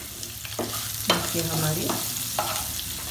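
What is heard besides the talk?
tempering sizzling in the pan while stirring lauki muthiya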